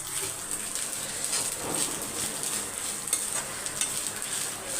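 Grated coconut roasts in a pan for a wedding-style sambar, with a steady soft sizzle and repeated scraping and stirring strokes close by.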